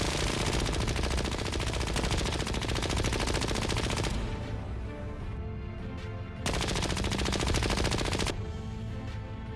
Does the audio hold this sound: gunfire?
yes